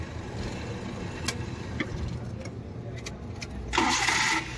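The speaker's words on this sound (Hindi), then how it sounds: "आप देख सकते हैं अजीब तरीके का नॉइस आ रहा है और गाड़ी बंद हो जा रही है खड़ी खड़ी आइडलिंग में भी" A Maruti Suzuki Eeco pickup running on CNG, with starting trouble and a tendency to stall at idle, gives a low, uneven engine rumble with a few sharp clicks and a brief louder burst of noise near the end.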